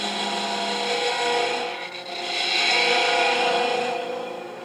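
A lathe gouge takes light cuts on a wooden bug pull toy spinning in a chuck, extended well out, giving a steady, close scraping, rasping hiss with a brief dip midway and no talking.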